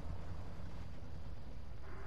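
Ford F-750 truck engine with a custom gearbox in the video game SnowRunner, a low, steady rumbling drone that holds at a fairly constant pitch with a rough, gritty texture and no talking.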